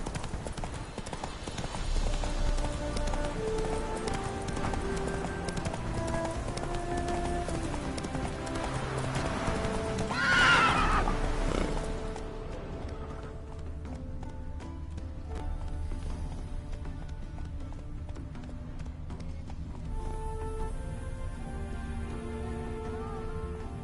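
Horse hooves clip-clop in a steady galloping rhythm in the video game The Witcher 3, with game music and background effects and a brief whoosh midway.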